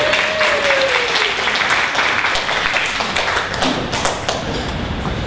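A workshop audience applauds a volunteer called up from the crowd, loud continuous clapping filling the room, with a short tonal whine sliding down near the start.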